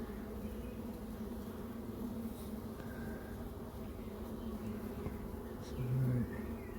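Honeybees buzzing in an exposed hive cut out from under a floor, a steady low continuous drone from a mass of bees, close and even, with one louder bee briefly passing near the end.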